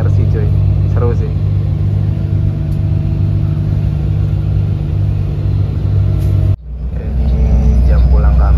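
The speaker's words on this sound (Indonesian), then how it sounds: "Dan kita bakal menikmati Trans Jawa di atas mesin depannya Mercy, cuy." A front-engine Mercedes Laksana SR3 coach cruises on the Trans Java toll road, its engine a loud, steady low rumble heard from inside, briefly dipping before swelling back up.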